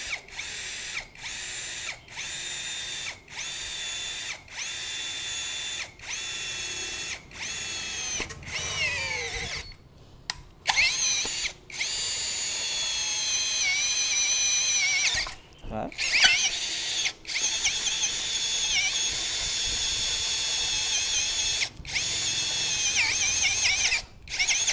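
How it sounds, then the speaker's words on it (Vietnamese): Cordless drill, a screwdriver-type model, boring into a U-shaped steel channel: long whining, squealing runs of drilling broken by short stops and restarts, loud and close, with someone talking over parts of it. "sẽ khoan thử cho mọi người một cái U như này"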